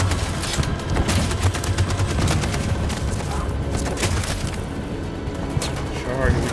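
Sustained automatic gunfire with booming impacts from battle in the video game Detroit: Become Human, loud and continuous, with voices talking over it.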